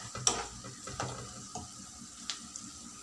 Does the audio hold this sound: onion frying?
yes